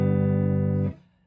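A single major chord rings out on an electric guitar, held as a sustained, clean tone for just under a second before being cut off abruptly.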